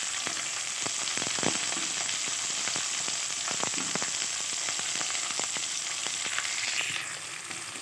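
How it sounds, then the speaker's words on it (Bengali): Potatoes and flat beans fry in a pan with a loud, steady sizzle that runs unbroken throughout, dotted with small crackles and pops and the occasional scrape of stirring. "রাখা আলু শিমগুলো আমি দিয়ে একটু ভেজে নেব।"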